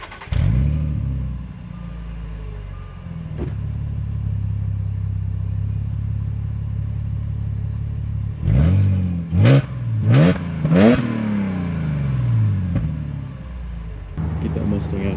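Supercharged Audi S4 V6 car passing and revving, a steady low engine drone that builds into several sharp accelerating revs with rising and falling pitch, loud and close, with people talking at moments.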